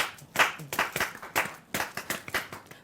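Bare hands clap a steady rhythm close by, about a dozen sharp claps in a regular beat, some doubled, with no voices over them.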